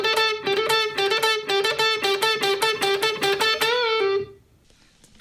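An electric guitar plays a fast, repeated-note solo phrase in the style of a well-known guitar solo, bright rapid picking for about four seconds before cutting off into near silence.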